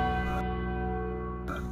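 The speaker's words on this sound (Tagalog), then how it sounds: "Para bang nakakarinig noon si Ohera ng batingaw ng isang kampana." A church bell tolls in a single sustained ring, its long humming resonance filling the short stretch at steady loudness.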